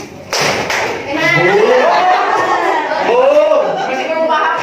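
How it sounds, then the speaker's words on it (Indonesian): Schoolchildren in a classroom clap their hands and slap their desks on a teacher's call, bursts of thumps and clapping mixed with excited chatter and a teacher's voice. "Kalau ibu bilang boom, terus tapak meja. Kalau ibu bilang claps, itu tepuk tangan."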